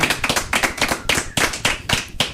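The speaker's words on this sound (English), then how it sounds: "Clap all you want." One person claps their hands about ten times in a loose, slightly uneven rhythm on a radio talk show, each clap sharp and close, with short gaps between and no talking.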